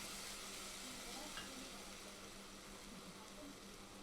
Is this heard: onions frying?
yes